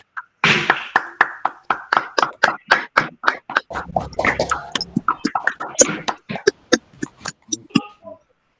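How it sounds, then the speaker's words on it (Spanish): Applause from the audience closing a lecture presentation, rhythmic distinct claps that start sparse, thicken into a steady clapping run, then thin out toward the end, with faint voices briefly underneath. "darles un fuerte aplauso y así concluir ya con la exposición"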